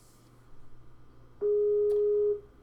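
A single steady electronic telephone ring tone sounds for about a second, loud and close, over a faint background hum on a call left unanswered.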